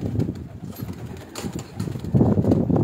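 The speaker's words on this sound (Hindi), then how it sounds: "बहुत अच्छा कबूतर है" A prized racing pigeon in a fancier's loft gives soft low cooing and brief wing flutters, near and fairly steady, with a denser burst of cooing toward the end and no talk.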